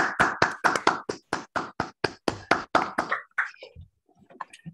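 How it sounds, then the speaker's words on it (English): Applause after a colloquium talk, about fifteen sharp, evenly spaced hand claps at close range, like a single person clapping rather than a full audience, then a few faint scattered taps as it dies away. "It's always a bit embarrassing to hear the applause"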